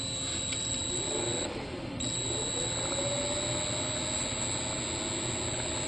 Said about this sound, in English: what I'm going to do is just run the motor up a little bit with a Dremel tool